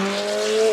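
A racing car engine in a sim-racing game holds a steady, smooth tone with a faint tire squeal, brief and close, like a game engine sound.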